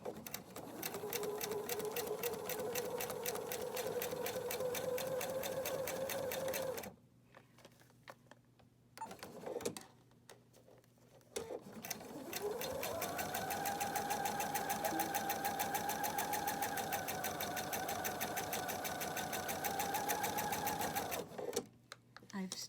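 Sewing machine stitching a seam at a short 1.5 stitch length, a fast, steady whirring run that stops, pauses briefly, then starts again for a second long run, with talk heard between the runs.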